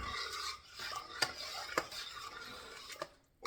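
A utensil scrapes and clinks against a pot while Cajun after-the-boil soup is stirred, faint and close, with a few sharper knocks.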